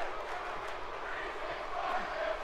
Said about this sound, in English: You hear the crowd chanting, Breeze is gorgeous